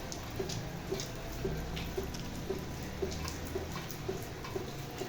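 Rain falls around a pigeon bathing in it, producing a soft, steady patter with faint rhythmic dripping, fairly quiet and continuous, with no talk.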